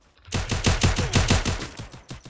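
Rapid automatic gunfire in a video game, a burst of about a dozen loud sharp shots in quick steady rhythm, close and alone.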